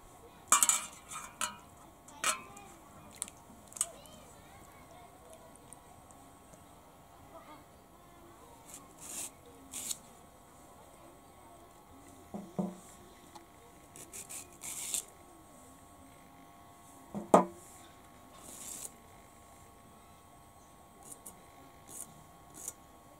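Peeled raw mango being chopped into small pieces for chutney, a scattered series of quiet knife taps and clicks on a board with one sharper knock, no talking.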